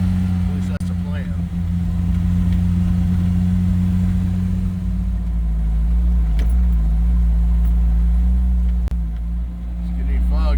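Five off-road rigs rumble through snow on a ridge trail, a steady low engine drone and road noise holding throughout with faint clinks and rattles on top.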